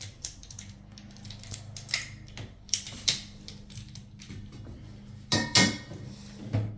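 A copper pipe cutter is reset and its wheel adjusted, giving a few sharp metallic clicks and scrapes spaced irregularly over a low steady hum, close and fairly quiet.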